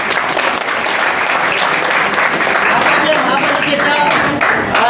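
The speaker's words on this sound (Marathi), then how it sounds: "यांचा आपण पुन्हा एकदा टाळ्या वाजवून धन्यवाद द्यायला हरकत नाही।" A crowd at a Disability Day event held by the Ulhasnagar municipal disability department claps in thanks. The dense, steady applause is loud and close and runs unbroken for the whole stretch, with no one speaking over it.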